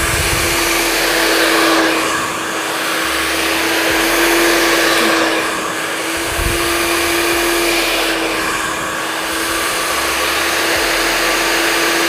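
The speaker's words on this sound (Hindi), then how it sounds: "अब मैं सारे हेयर्स को एक साथ ड्रायर करूँगी" Hair dryer blowing layered hair, a loud, close, steady whirring roar with a constant whine. The airflow swells and dips slightly as the dryer is moved around the head.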